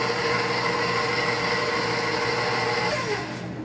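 A stand mixer whirs steadily as lemon zest, juice and sour cream mix into blueberry lemon pound cake batter, a continuous motor drone that eases down slightly near the end.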